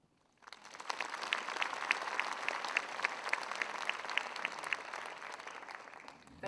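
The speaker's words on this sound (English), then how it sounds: "Let's give another round of applause to Professor Goh for the inspiring speech." Audience applause after a professor's speech at the RPIC 2024 opening ceremony, a dense, steady wash of clapping that swells in quickly and holds evenly for several seconds with no talking.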